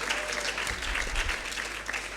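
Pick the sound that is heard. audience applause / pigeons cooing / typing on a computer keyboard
audience applause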